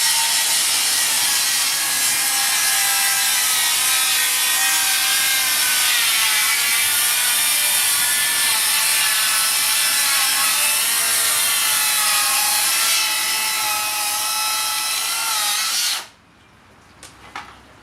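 Makita 40V circular saws cut through timber in one long continuous loud whine lasting about sixteen seconds, the blade tone shifting slightly under load, then stopping abruptly and leaving a faint rattle.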